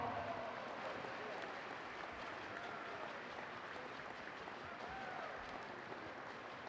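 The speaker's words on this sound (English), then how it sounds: "I think we can keep the applause going as we welcome Miss Itogi onto court." Arena crowd applauding at a netball final as a guest walks onto court, steady broadband clapping and crowd noise filling the space throughout, moderately distant with no break.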